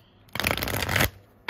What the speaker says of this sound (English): Just shuffling the cards a little bit.